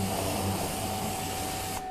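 A water spray rinses a car wheel, a steady close hiss of rushing water that holds evenly for a couple of seconds before cutting off.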